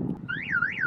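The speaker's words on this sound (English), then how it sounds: "set off the panic alarm, which is going to cause the driver to stop." Car panic alarm deliberately set off, a loud electronic siren sweeping up and down in smooth wails over a low background rumble.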